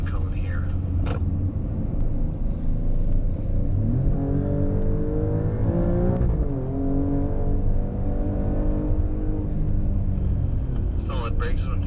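An Alfa Romeo or Maserati accelerates at full throttle on a racing circuit, its engine note climbing steadily and loudly through the gears, with someone talking over it.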